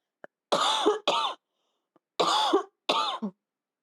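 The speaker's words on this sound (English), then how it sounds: "I have to cough" Four harsh coughs in two pairs, close and fairly loud, with brief pauses between them and a faint click or two before.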